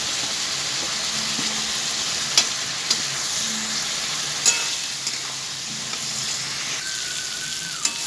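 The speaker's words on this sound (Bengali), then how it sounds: "দিয়ে দিয়েছি মশলা, এবার কষিয়ে নেবো। দিয়ে দেবো কেটে রাখা টমেটো" Spices and chopped tomato fry and get stirred in a pan with potatoes, a steady close sizzle broken by a few sharp clacks of the spoon against the pan, no voices.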